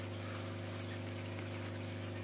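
Running water rinses leftover food out of a container of collected worm culture, a steady continuous flow with a pump-like hum, close and fairly quiet with no talk.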